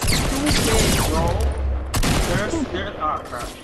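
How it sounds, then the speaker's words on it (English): Sniper rifle shots and gunfire in the Fortnite video game, a dense burst of loud game gunfire mixed with explosions, heard under excited, overlapping player voices. "Oh, he got sniped!"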